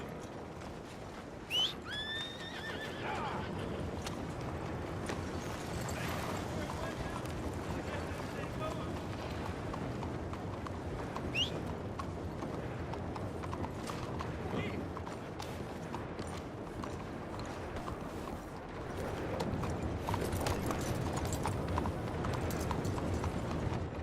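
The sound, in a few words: horse galloping hooves, from video game Red Dead Redemption 2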